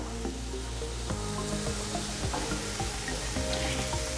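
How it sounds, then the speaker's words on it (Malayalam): Ginger garlic paste sautéing with chili powder, garam masala and chicken masala in a pan, a soft continuous sizzle with occasional clinks and stirring scrapes over a steady background hum. "ഈ പൊടികളുടെ റോസ് സ്മെല്ലൊന്ന് മാറി വരുന്ന വരെ ഒന്ന് വഴറ്റി കൊടുക്കുക."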